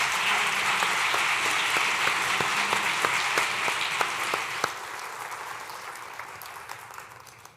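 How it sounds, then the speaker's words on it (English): Audience at a school district address breaks into sustained applause, a dense even wash of clapping with a few sharper individual claps near the front, gradually tapering toward the end. "How about giving both of them a nice round of applause?"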